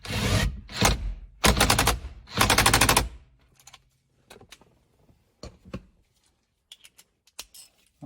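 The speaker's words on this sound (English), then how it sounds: "And tighten the nut to 37 foot-pounds." Ratcheting wrench tightening a nut on the steering column of a 2010-2015 Lexus RX350/RX450h, heard as three loud rapid clicking bursts early on, followed by scattered faint ticks and clunks.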